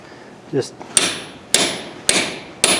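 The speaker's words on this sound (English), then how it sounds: "then you can smack them with a hammer" Four sharp, ringing metal hammer strikes drive wheel studs into a Case IH tractor axle hub at an even pace, each clang decaying quickly, preceded by a soft shuffling sound.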